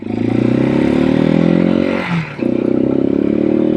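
A Janus Halcyon 250 motorcycle revs hard and accelerates through the gears, a loud close engine roar with a brief dip at a shift before climbing again.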